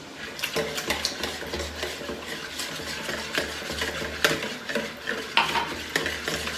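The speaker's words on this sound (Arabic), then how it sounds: "وغنستمر في التحريك" Semolina basbousa batter being stirred with a utensil right after oil is poured in, a steady close scraping and sloshing with occasional clinks against the bowl, no voices.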